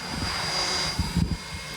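A small custom-built military drone's motors whine and buzz steadily as it lifts off, with a couple of brief thumps near the end.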